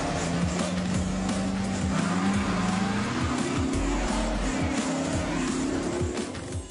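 Hoon cars tear around in a spin-out display before a large crowd, engines roaring loud and continuous with repeated tire squeal and skidding, close by and steady throughout.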